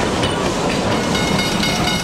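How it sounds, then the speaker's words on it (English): The Puffing Billy steam train crosses the 91-metre curved Monbulk Creek trestle, a steady loud rumble of rolling wheels and carriages with a faint hiss, heard close and continuous. "Today's first train is underway, crossing the 91 metre long curved Monbulk Creek trestle."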